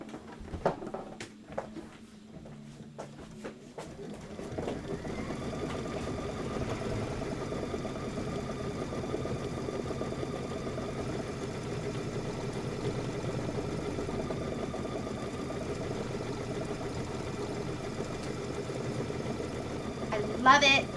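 A sewing machine quilts a Kimberbell quilt: a few clicks, then a steady mechanical drone that runs evenly and without a break for about sixteen seconds.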